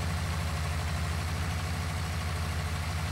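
A tractor idling in Farming Simulator 19: a steady, close, low engine drone with an even pulsing throb and no speech.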